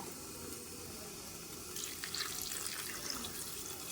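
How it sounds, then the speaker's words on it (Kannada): Water pours steadily from a tap, the splash getting louder and brighter about halfway through as it fills a pot of lentils for sambar. "ನಮಗೆ ಎಷ್ಟು ಬೇಕೋ ಅಷ್ಟು ನೀರು ಹಾಕ್ಕೋಬೇಕು"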